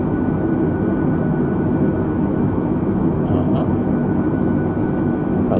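Airbus A320neo engines roar in a flight simulator game, a steady, loud, unbroken drone of turbofan noise with no talk over it.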